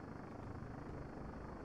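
Helicopter in a combat video game, heard as a steady low rotor drone filling the whole clip at moderate, constant loudness with no speech.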